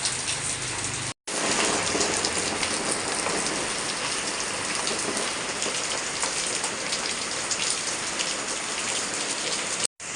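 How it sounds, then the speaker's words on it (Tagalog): Heavy rain from a typhoon pours down in a dense, steady roar of drops striking surfaces, loud and unbroken throughout with no talking. "Grabe, may bagyo pa. Ayan guys, ang lakas ng ulan."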